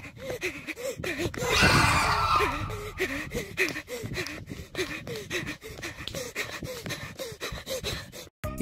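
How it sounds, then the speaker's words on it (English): Hair Shrieker creature chase in the video game The Missing: panicked gasping and panting breaths repeat in a fast rhythm over a swelling rush of noise and tense game music, loud and close with no speech. "we get our first chase sequence with a creature called the Hair Shrieker"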